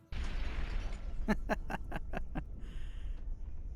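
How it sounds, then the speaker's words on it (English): A mini nuke explosion fired from finger guns in Fallout: New Vegas, a loud booming blast followed by a rapid series of about six sharp bursts, with a fading rumble and hiss trailing off. "we can shoot mini nukes from our fingertips"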